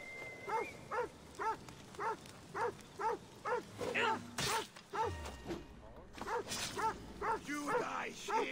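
A dog barks in Assassin's Creed Odyssey, a regular series of close, loud barks at roughly half-second intervals, with a brief sharp impact midway and a player talking over the game sound.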